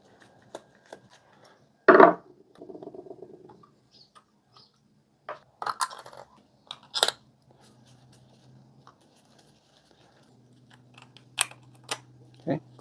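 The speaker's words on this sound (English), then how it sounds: "2 screws to undo here" Two screws come out of the battery compartment on the underside of a Marvel Legends Green Goblin toy helmet, heard as small close clicks and scraping ticks with short gaps of quiet between them.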